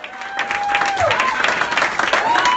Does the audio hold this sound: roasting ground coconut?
no